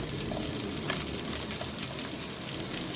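Small shallots, garlic cloves and ginger fry in hot oil in a pan for a chicken kuzhambu, with a continuous close sizzle and crackle throughout.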